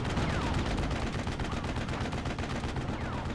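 In a WWII strategy game battle with 21 Panzer forces, dense rattling gunfire and machine-gun bursts mix with heavy artillery thuds, a loud, continuous barrage with no clear gaps.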